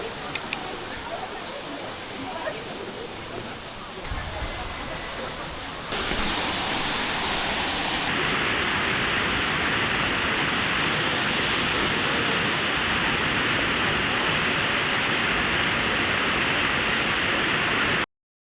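Sossego waterfall in the Brazilian jungle pours with a dense, constant roar of rushing water that swells louder partway through and holds steady for around eighteen seconds.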